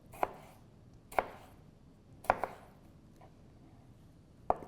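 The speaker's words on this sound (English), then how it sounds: "Let's get these cut up into a nice rough chop" Fresh vegetables, onions and peppers, being roughly chopped with a knife on a board: four or five distinct, well-spaced thuds, close and clear, with quiet pauses between cuts.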